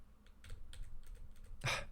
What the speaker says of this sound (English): I'll just use my keyboard arrows to go up and down